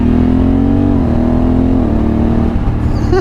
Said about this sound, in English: Now the downshifts,